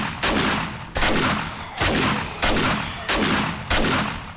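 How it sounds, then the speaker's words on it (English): Six heavy shotgun blasts fire in the 7 Days to Die game, each a sharp boom with a decaying tail, spaced roughly evenly about two-thirds of a second apart, loud and close with no talk over them. "Shotgun."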